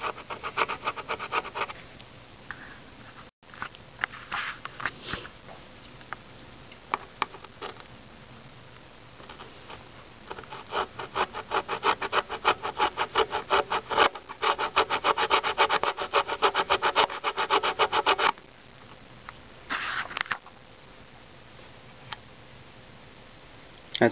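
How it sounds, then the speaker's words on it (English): A knife blade scratches the enamel coating off copper leads while an old boombox is repaired, making close, dry, rapid scraping strokes in bursts, with short pauses between runs. "I'm just going to scratch this enamel off with a knife here"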